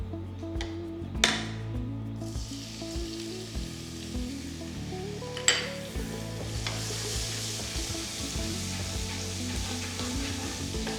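Crushed garlic sizzling in hot oil in a pan while a chicken fry is cooked, a steady crackling hiss with occasional sharp utensil clinks and stirring scrapes, close and moderately loud.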